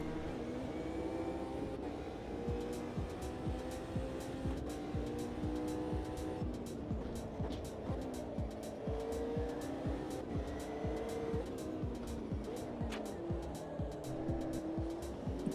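BMW race car in a sim racing game, its engine droning loud and steady with rising and falling revs through corners and straights, accompanied by someone commentating over it throughout.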